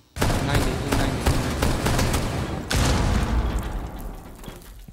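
A dense burst of gunfire in Rainbow Six Siege, loud and continuous with rapid shots, then a second sharp volley that trails off, with no talking.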